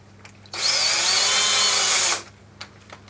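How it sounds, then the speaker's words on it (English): An electric drill on low speed spins a bronze cleaning brush inside the cylinder of an Uberti 1851 Colt Navy revolver, one loud, steady high whine of about a second and a half that starts and stops abruptly. "a bronze brush that I can put into the end of my electric drill, and just to clean out these bits and the cylinders"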